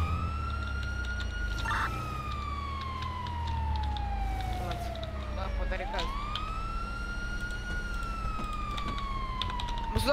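An ambulance siren in the video game GTA V on a FiveM roleplay server wails in long rising and falling sweeps, loud and continuous over a steady low engine-like drone for the whole stretch.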